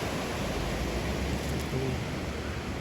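Water rapids cascading at Grand Falls in Joplin, Missouri, a loud, steady broadband rush that fills the whole clip without pause.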